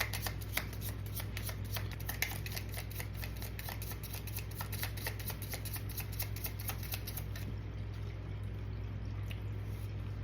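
Playing cards are shuffled for a card reading, a rapid run of soft riffling flicks that continues for most of the stretch and then trails off, over a steady low hum, with no talking.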